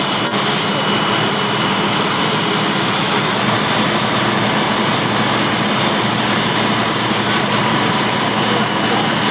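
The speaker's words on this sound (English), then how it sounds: "We got another tanker coming in." A fire department water tanker truck arrives at a fireground with a constant heavy engine roar and broadband rumble, steady and loud for the whole stretch with no talk.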